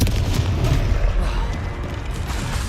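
A Confringo spell detonates in Hogwarts Legacy, giving a dense, booming rumble of blasts and crackling debris that stays loud for the whole moment, with no talk.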